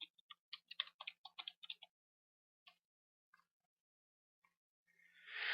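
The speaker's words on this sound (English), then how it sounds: "begin by typing a name for the customer" Quiet computer keyboard typing: a quick burst of about a dozen light clicks, then a few scattered taps, ending in a rising breathy rustle.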